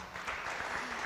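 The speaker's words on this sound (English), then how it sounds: "Another round of applause for Anthem." A brief burst of applause from an audience at a youth democracy event, fairly quiet and even, lasting about a second.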